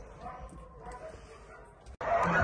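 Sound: puppies yipping and whimpering at a shelter

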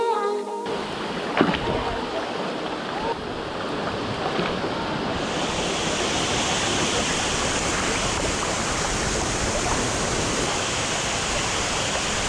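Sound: Salto Curet waterfall on a river in Maricao, Puerto Rico

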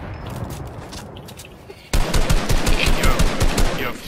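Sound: gunfire shooting at the player in Fortnite video game

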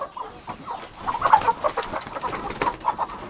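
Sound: chickens clucking in coop while fed sugar cane

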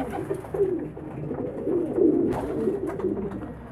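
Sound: pigeons cooing

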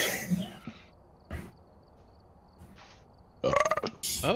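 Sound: burp

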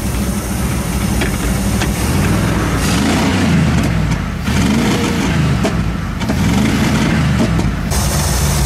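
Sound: badly running vehicle engine

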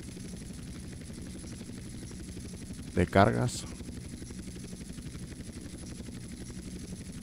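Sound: helicopter flying in the video game GTA San Andreas

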